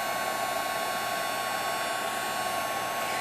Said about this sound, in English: hold the embossing gun just in one spot until you see the embossing powder change to a shiny color